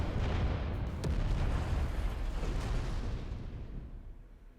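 Explosion in the video game Final Fantasy XIV Endwalker, a single broad rumbling blast that lingers and slowly fades, with no voices over it.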